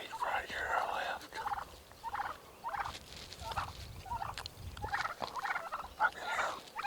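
A wild Gould's turkey gobbles repeatedly from a hillside in Mexico, rapid rattling calls coming in bursts at moderate distance, faint over outdoor ambience.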